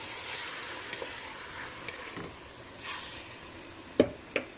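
Chicken with saluyot sizzling in oil with onion in a pan, a steady soft frying hiss under a few sharp utensil clinks and scrapes as it is stirred, with no talk.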